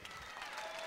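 An audience applauds a guest on a French accordion music television show, a dense steady wash of clapping throughout.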